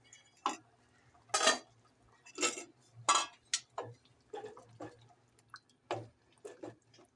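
A spoon stirring garam masala, ground black pepper and fresh coriander into an aloo matar curry in a pot, giving intermittent clinks and wet scrapes in an uneven rhythm, quiet and close, with no talking.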